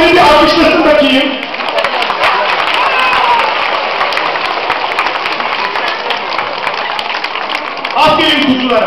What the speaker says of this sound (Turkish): alkışlasın bakayım